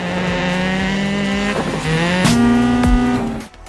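An in-game rally car engine from WRC Generations revs hard and steadily, its pitch dropping through a gear change and then climbing again, with a short tyre scrub before it cuts off. The sound is loud and synthetic-sounding.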